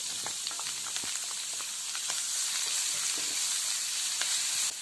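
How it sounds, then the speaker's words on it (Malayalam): Ground garlic and shallot paste fries with chili flakes in a pan, a dense, steady hiss of sizzling oil with small crackling pops, close and even throughout. "ഇതെല്ലാം കൂടെ നമ്മൾ ചെറുതായിട്ടൊന്ന് ആദ്യം മൂപ്പിച്ചെടുക്കണം"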